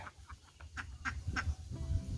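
Egg-laying ducks at a small farm quacking while eating mixed feed, several short nasal quacks in quick succession, fairly close but quiet, over a low muffled background.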